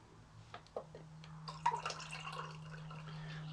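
Last drops of freshly brewed coffee fall one by one into a cup, faint scattered drips over a low steady hum in a quiet room.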